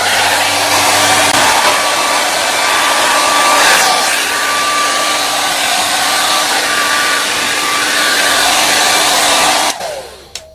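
A hair dryer blows hair dry at close range, a loud steady whooshing roar that runs unbroken for about ten seconds before cutting off abruptly at the end.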